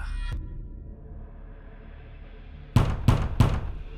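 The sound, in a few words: bathroom door being pounded from inside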